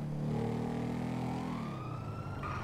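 A police car siren in the video game GTA V wails steadily with rising and falling tones, fairly faint and continuous over a constant road-noise background, with no talking.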